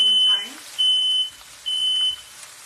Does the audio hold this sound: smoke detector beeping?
yes